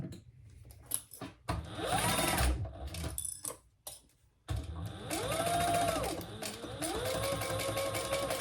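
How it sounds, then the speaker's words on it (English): A sewing machine stitches the gusset seams of a convertible bag in stop-start runs, its motor whining up and down in pitch between short pauses, close and loud, with no talking. "sew those together with the seam allowance in the pattern"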